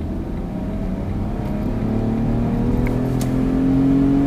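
A 2012 Smart Fortwo Coupe Passion mhd petrol car accelerates hard with the throttle held down, its engine drone rising steadily in pitch and loudness across the whole stretch, heard from inside the cabin with no talk.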